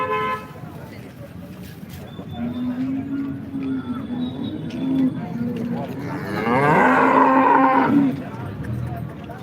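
Cows lowing at the Modnimb cattle market, a long drawn moo early on and a louder, harmonic bellow near the end, with market chatter and an occasional horn in the background.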